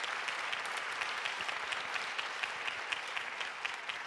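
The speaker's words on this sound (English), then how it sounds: "That deserves an applause." A crowd applauds at a city state-of-the-city address, dense, even clapping from many hands that holds steady and fairly loud from start to finish.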